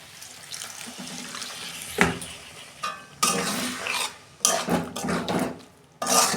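Water pours and splashes into a pan of spice-fried taro curry, arriving in several bursts with scraping and clattering of the pan between them.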